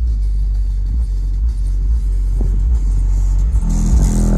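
Pioneer subwoofers in a Hyundai Verna sound system, turned up to volume 40, pound out a dense, rumbling bass line that is loud and continuous, heard from outside the car.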